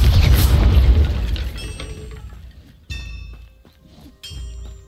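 Incendio fire spells go off in the video game Hogwarts Legacy, a deep booming blast that fades slowly, then two sharper follow-up bursts with bright ringing tones, loud and close, with no talking.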